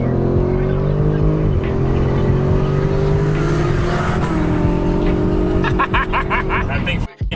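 A US-spec Audi RS6 Avant accelerates hard, its engine climbing loudly through rising revs with a gear change midway, then backs off to a brief burst of clattery noise before a short drop to quiet.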